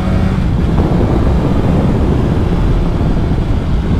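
A 2021 BMW S1000RR motorcycle engine drones steadily while riding, a loud, continuous low rumble mixed with heavy wind rush throughout.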